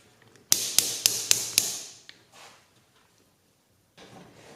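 A torque wrench set to 120 inch-pounds clicks off sharply five times in quick succession while tightening bolts on a Ford F150 transmission pan. Softer scraping and handling noises follow.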